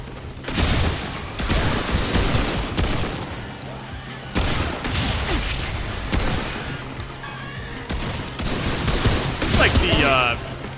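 Gunfire in the shooter Remnant 2, with repeated loud bursts of shots and impacts coming in clusters across about eleven seconds, close and punchy, with mechanical clicks and crashes between volleys.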